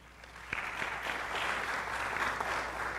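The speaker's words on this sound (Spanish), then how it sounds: "para que le den un fuerte aplauso." Strong applause from an audience at a psychology students' debate, a steady dense wash of clapping rising after a brief start and holding loud and even throughout.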